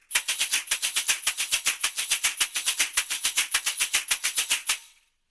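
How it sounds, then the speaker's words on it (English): Samba chocalho shaker played at a fast tempo, a steady run of crisp, bright metallic jingle strokes about five per second, loud and alone, stopping abruptly after nearly five seconds. "Yeah, that's the Chocalho."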